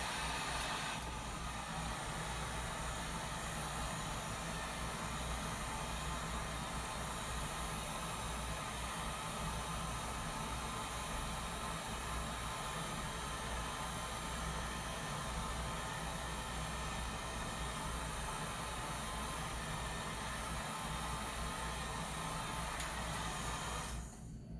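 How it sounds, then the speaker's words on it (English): A regular heat gun blows steadily on a magazine coated with Norrell's Moly Resin, a continuous loud airy hiss with a low rumble underneath, unbroken for the whole stretch and cutting off abruptly at the end. "Regular heat gun."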